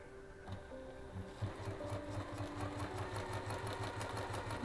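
Sewing machine stitching strips of fabric selvage scraps at a regular stitch length, starting up and settling into a steady close whirr with a rhythmic needle thump throughout.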